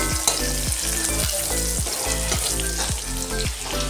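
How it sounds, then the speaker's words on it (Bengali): Sliced pointed gourd fries in oil in a pan on a small gas stove, giving a loud, steady sizzle broken by regular scraping stirs, about one every half second. "আমি এখানে ছোটো গ্যাসে পটল ভাজছি তো"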